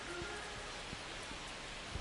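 Steady, dense rain hiss in the MLB The Show 25 baseball video game, a constant broadband wash with faint drop taps throughout and no talk.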